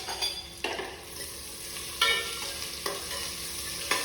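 Onions sauté in a pan until their raw smell fades, a continuous close sizzle broken by several sharp stirring scrapes and clatters, with no voices.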